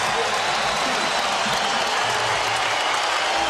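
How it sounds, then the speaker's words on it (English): A basketball arena crowd at an NBA Christmas Day game between the Lakers and Heat roars and applauds after a slam dunk, a dense, sustained wash of cheering filling the whole stretch. "And that brings this crowd to its feet."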